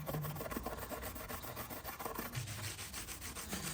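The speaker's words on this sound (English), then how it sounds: "I've got a bit of non-woven pad. It shouldn't be too much effort to go over them." Brass hinges are rubbed with a non-woven abrasive pad, giving a close, continuous scratchy scrubbing with quick back-and-forth strokes and no voices.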